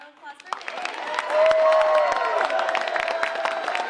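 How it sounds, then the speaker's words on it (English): A round of applause from an audience at a Filipino arts performance event, hands clapping in a crowd as the clapping swells and holds, mixed with some voices and a brief sustained tone partway through. "so everybody give a round of applause for"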